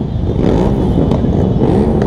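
Yamaha R6 sport motorcycle revving, a loud, close, continuous engine roar with slight surges over two seconds.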